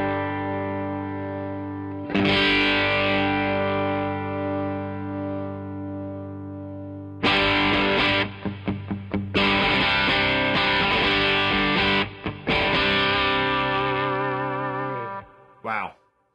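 Electric guitar played through a Headrush Blues Driver distortion effect, giving a crunchy overdriven tone. Sustained chords and short bursts ring out loud and close, broken by pauses and a final quick strum, with no talking.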